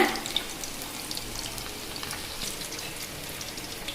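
Food soaked since the morning fries in hot oil, a steady crackling sizzle with small pops, close and moderately loud with no voices.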